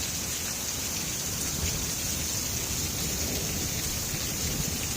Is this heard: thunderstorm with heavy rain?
yes